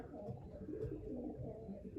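Young racing pigeons coo softly in the open while their loft section is cleaned. A low, continuous murmur of cooing is heard, with faint talk in the background.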